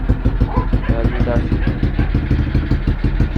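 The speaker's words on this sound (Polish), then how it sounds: "Silnik jest na dotarciu, więc nie będzie jeszcze tak wszystko pięknie, elegancko chodziło." A small 50cc motorcycle engine (Zipp Pro 50, 139FMB), freshly rebuilt and still breaking in, idles with a steady, uneven clatter while someone speaks over it nearby.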